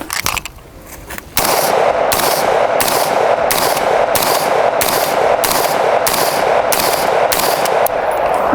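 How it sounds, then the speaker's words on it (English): An M16 rifle fires a steady, evenly spaced series of loud single shots at close range, each a sharp crack with a short ringing tail, after a brief quiet lead-in. "Just 10 slow shots so you guys get a feel for the recoil and all"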